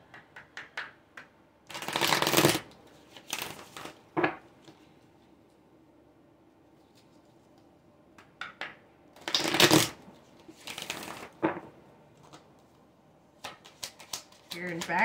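A deck of oracle cards is shuffled in quick riffling bursts, crisp and close, separated by pauses, with a few softer flicks and handling taps in between.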